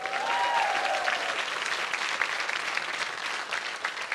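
Live audience in London giving a round of applause, a full, steady roar of clapping hands with a faint high whistle near the start, continuing evenly throughout.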